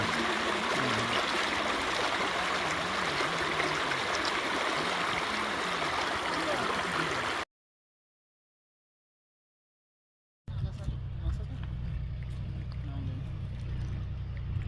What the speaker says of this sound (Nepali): गोकुले खोलामा पानी खेलाउँदैछ